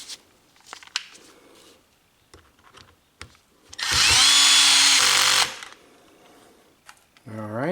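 A Milwaukee 2662 impact wrench drives metal screws into plastic in one loud, steady whirring burst lasting about two seconds, preceded and followed by quiet handling clicks and knocks.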